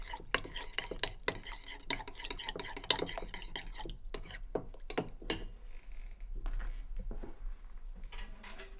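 A spoon stirs a sticky bourbon marmalade glaze in a bowl, giving close, irregular scraping clicks and taps against the sides that come in uneven bursts, then trail off into quieter, softer stirring.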